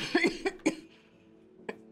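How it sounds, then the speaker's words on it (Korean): A short burst of several coughs close by, followed by a pause and one more single cough. "간헐적으로 터져나오는 기침뿐"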